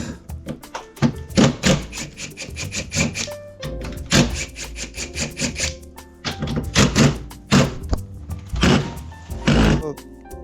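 A wooden front door is taken off a rented house being demolished, giving repeated clustered knocks, thunks and scraping rubs in bursts, loud and close, with occasional speech between.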